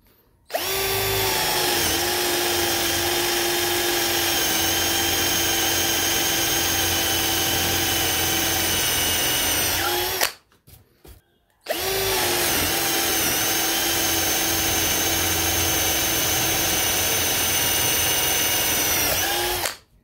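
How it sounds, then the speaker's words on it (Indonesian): A Dongcheng DCJZ1202i cordless drill with a wood bit bores into mahogany, running at a steady high whine for about ten seconds, stopping briefly, then running again for another long stretch, loud and close. "untuk pengeboran kita coba media kayu mahoni"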